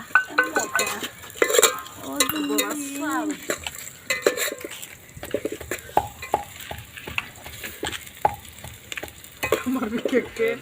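Sliced onions frying in a pan with chicken skin until golden, a steady close sizzle broken by scraping stirs and clinks of a utensil against the metal, with no talk.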